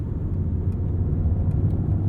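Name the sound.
Mercedes-AMG GT 63 engine rumble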